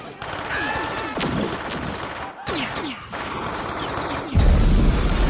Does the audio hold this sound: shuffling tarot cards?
no